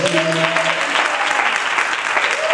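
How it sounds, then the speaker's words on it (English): Church congregation applauding for Father's Day at a worship service, steady dense clapping throughout, loud and close, with a brief sung or spoken tone over the start. "Will y'all clap your hands for the Father's Day?"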